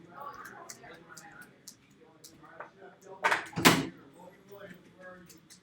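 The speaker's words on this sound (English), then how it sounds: "I just had to close my door here." Someone closes a room door with a pair of close thumps during a deductive reasoning lesson, with a soft voice talking before and after.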